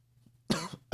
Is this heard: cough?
yes